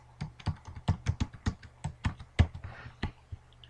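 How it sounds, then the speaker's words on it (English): Keys on a computer keyboard are tapped out to enter a password, about fifteen distinct close clicks in an uneven rhythm, fairly faint and with no talk. "we'll type in John Smith's password"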